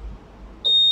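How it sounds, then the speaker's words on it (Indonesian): A Honda Click 150 (2020) key fob lets out a sharp, steady electronic beep that begins partway through and holds loud to the end, after a moment of quiet room tone. "Ayan, nag-beep siya na mabilis."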